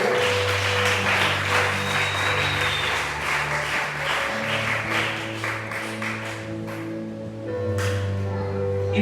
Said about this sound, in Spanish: Dale un fuerte aplauso al que vive en iglesia.